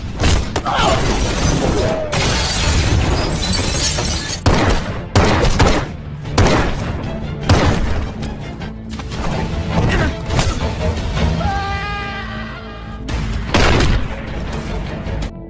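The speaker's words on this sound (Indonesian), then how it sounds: "baku tembak dan baku hantam pun tidak bisa dihindari lagi" Gunfire and brawling in an action film fight scene: repeated loud crashes, thuds and shattering impacts in dense, chaotic bursts, with whistling tones and a brief voice near the end.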